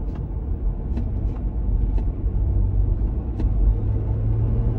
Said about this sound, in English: listen, you'll hear the clicking. It's me putting my foot down flat.